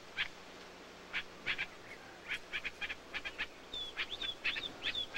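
Birds calling at Engedi, a desert oasis in the Holy Land: a scattered series of short chirps and sharp whistled notes, several in quick pairs, moderately close and alone over a faint hiss.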